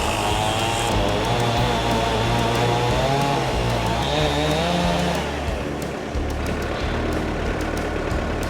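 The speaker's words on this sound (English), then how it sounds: "we're going to definitely clean this end up with the chainsaw" A chainsaw cuts steadily through a thick hickory log, its loud engine droning without pause for several seconds, close up, with a slight dip in pitch as the bar bites deeper near the end.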